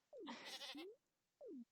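Goat bleats in the farming video game Echoes of the Plum Grove: one long wavering cry followed by a short rising call, then a second falling bleat, close and clear with no talk over them.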